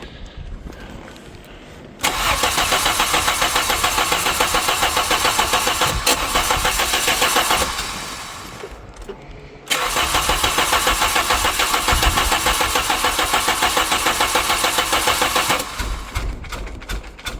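Engine of an abandoned Volkswagen Vento cranking and catching after a repair attempt, loud and close, running for several seconds, dropping briefly, then starting again and running steadily before cutting off.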